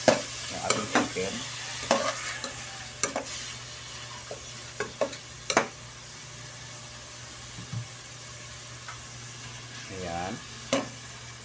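Chicken strips sautéing in a pan for sopas, with a steady sizzle under sharp scraping stirs and clacks of a utensil, close by; a voice speaks briefly near the end.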